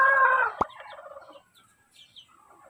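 Chicks and fowl on a small backyard flock call in a loud burst of clucking and gobble-like cries at the start, then soft scattered peeping and chirps continue faintly, with no talking.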